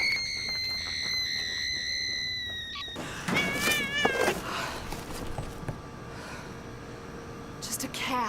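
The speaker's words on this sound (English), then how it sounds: "Just a cat." A cat meows in a horror film scene: wavering high cries after a burst of noise, fairly close and loud, mixed with other film sounds and voices around it.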